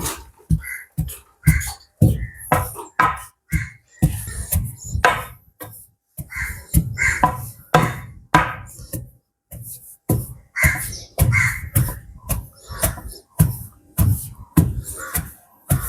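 Roasted mung beans and grated coconut pounded together, a steady run of sharp, close thuds repeating at a brisk, fairly even rhythm for the whole stretch.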